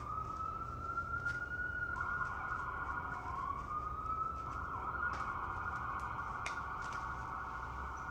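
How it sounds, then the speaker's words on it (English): Police car sirens wail outside, a steady rising and falling tone holding throughout at moderate distance over a constant low traffic rumble, with no talking. "police cars outside."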